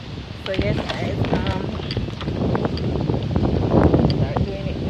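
Gusty wind buffets the microphone with a rough, rumbling roar, while a person talks intermittently over it.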